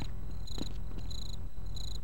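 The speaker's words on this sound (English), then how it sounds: "Wait, they have crickets out here?" Crickets chirping outdoors in the video game Half-Life, a steady bed of high repeating chirps in short bursts over low ambient rumble, fairly quiet and continuous.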